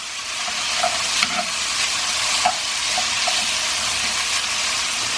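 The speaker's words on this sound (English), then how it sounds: "Now I'm going to add in my hazelnuts." Hazelnuts tossed into a broccoli soba noodle stir-fry over high heat, a loud steady sizzle with a few soft clicks as they land and get stirred.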